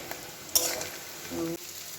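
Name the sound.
onions frying for biryani birista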